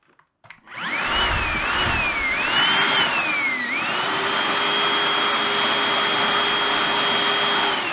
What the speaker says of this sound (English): We'll hoover that bit up first, and then I'll get the paintbrush on that.